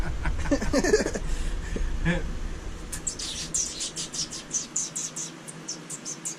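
Pet birds chirping in a rhythmic series of bright, repeated calls in the second half, close by, with rustling and brief human voices mixed in earlier.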